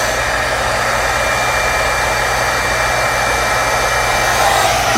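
A heat tool blows steadily to set white embossing powder on a stamped card, giving a loud, constant hiss and whir that runs without a break and with no talk.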